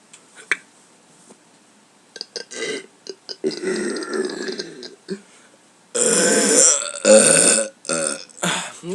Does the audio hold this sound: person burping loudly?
yes